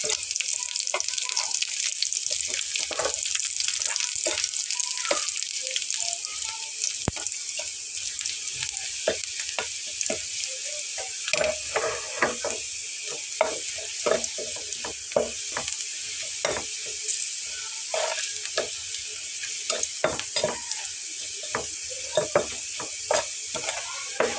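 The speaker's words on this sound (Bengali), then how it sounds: "পেঁয়াজটা একদম লাল করে ভেজে নিতে হবে" Onion frying in oil with whole cumin seeds and two dried chillies, a bright continuous sizzle with frequent scraping stirs and clinks of a spatula against the pan, close by and steady for a long stretch.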